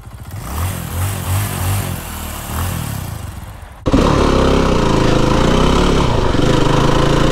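Yamaha WR-F dirt bike engine on a ride along the U5051 Parkamoor road, droning loud and close throughout, then jumping to a harsher, louder steady roar halfway through as the bike accelerates.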